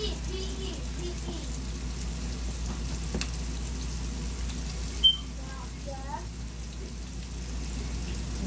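Chicken wings frying in a pan on medium heat, a steady soft sizzle and bubbling hiss with a faint low hum beneath and one brief tap.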